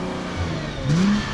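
A 2017 Nissan R35 GT-R engine runs with one side of its exhaust switched off, giving a short, fairly subdued steady hum that swells slightly near the end.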